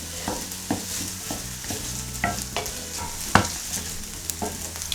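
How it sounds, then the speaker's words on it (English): Chopped onions and garlic sautéing in a hot pan, a soft continuous sizzle broken by repeated sharp scrapes and clacks of a utensil stirring, close and unaccompanied by talk. "The first thing we're going to do is saute some onions and garlic that we cut up"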